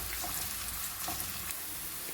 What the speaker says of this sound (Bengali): আমি এগুলোকে ভেজে নেব, একেবারে লাল করব না